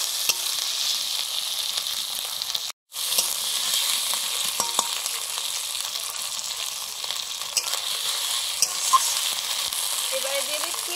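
Fresh fish frying with ginger and garlic in a pan, a steady close sizzle with stirring throughout and a brief break near the start.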